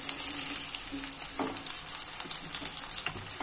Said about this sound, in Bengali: মাছটা ভালো করে ভেজে নিয়েছি,